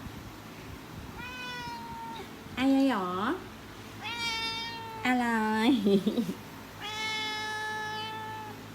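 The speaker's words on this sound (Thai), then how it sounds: "หืมก็แมวไง อืมก็แมวไงครับ" A pet cat meows repeatedly at home, drawn-out clear calls spaced a second or two apart, alternating with a person's voice replying close by in a playful tone.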